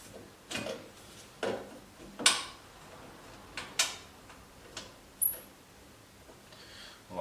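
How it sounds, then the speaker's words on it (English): A threaded part on a Honda 500 engine in a Norton Featherbed frame is turned, giving a series of short, sharp squeaks and ticks spaced about a second apart, fairly faint and close, with no talk. "That squeak sounded like one thread."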